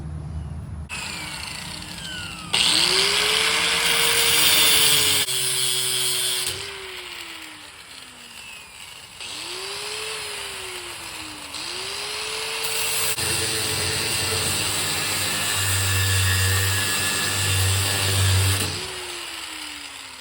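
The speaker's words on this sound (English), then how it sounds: "let me go get my angle grinder and we see if we can cut that off" An angle grinder cuts off a broken Bush Hog tailwheel caster on a farm, whining loudly in long bursts that rise and fall in pitch as the disc bites into the metal, with quieter pauses between cuts.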